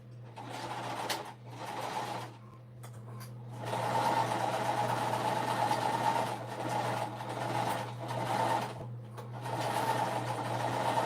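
A sewing machine stitches the pleated bottom of a fabric bag in close bursts of rapid, buzzing running. Short pauses come between the runs, and a steady low hum sits underneath.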